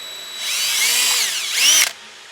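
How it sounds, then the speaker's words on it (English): A power drill whines at high pitch for about a second and a half, drilling a pilot hole in metal for a car's nitrous nozzle, rising briefly before stopping abruptly, loud and close. "we're gonna be drilling this nozzle into the bottom"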